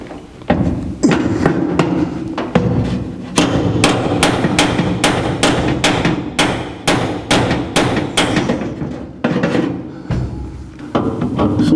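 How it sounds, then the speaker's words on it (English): A punch is hammered into metal to mark the center of a hole while a tachometer is installed on a 1949 Chevrolet gasser, a long series of sharp, loud metallic strikes in uneven rhythm, close by. "We have to take a punch and punch the center of this hole."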